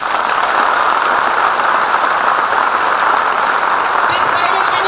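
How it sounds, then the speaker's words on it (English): A school annual day audience claps loudly and continuously, a dense, even wash of applause that fills the whole stretch without letting up. "how loudly can you clap?"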